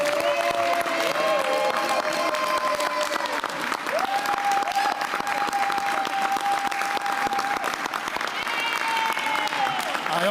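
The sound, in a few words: audience applause for council member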